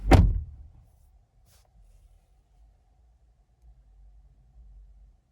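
A 2018 Buick Regal TourX door shuts with a single solid, close thud at the start. A low, faint rumble lingers for several seconds afterward in an otherwise quiet setting.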